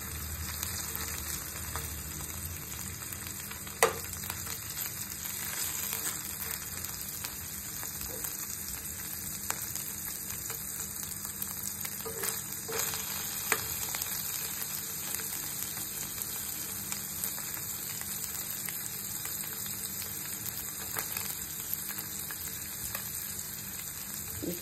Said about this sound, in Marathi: गोल्डन कलरवर फ्राय करायचे आपल्याला।